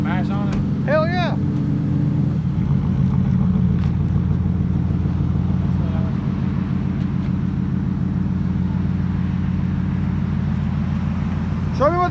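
A 2011 Ford F-150 XL with the 5.0-liter Coyote V8, stock factory converters and a loud aftermarket exhaust, rumbles steadily close by as it pulls away, a deep continuous drone under brief voices at the start and end.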